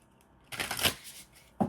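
Tarot cards being shuffled, a dry papery riffle and flutter that swells for about a second in a quiet room, followed by a short tap of a card a moment later.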